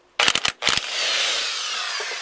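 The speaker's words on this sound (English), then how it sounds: "I'm just going to hit it with an impact real quick just to get that off" An impact wrench loosens the 15 mm steering wheel nut on a 1993 Fox Body Mustang GT with a few sharp rattling hammer bursts, then a brief whirring spin-down that fades. Nobody speaks.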